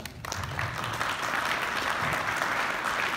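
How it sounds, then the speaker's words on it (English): Steady applause from an audience at a pinball expo talk, many hands clapping continuously at moderate volume throughout. "Let's give George a round of applause"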